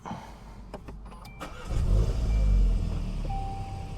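A Volkswagen Golf GTI 380 engine starting up close by: a brief cranking whir, then a loud surge into a rumbling idle that settles slightly, with a small electronic beep near the end.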